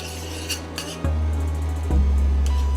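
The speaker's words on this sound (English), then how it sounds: "Get rid of this spoon," In a home kitchen, a metal spoon is set down and another picked up, producing two sharp, close clinks of cutlery against a dish over a low steady background hum.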